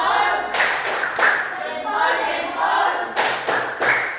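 A primary school class claps out a rhythmic classroom clapping chant, sharp bursts of hand claps separated by short gaps, with children's voices mixed in between the claps.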